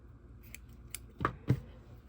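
Scissors snipping fabric from an old pillowcase, a few quiet, close crisp cuts, the last two slightly louder, with no talking.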